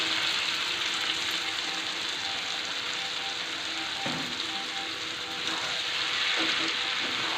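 Peas and potatoes hitting spiced oil in a pan, a dense steady sizzle and crackle throughout, close and loud with a few brief stirring scrapes.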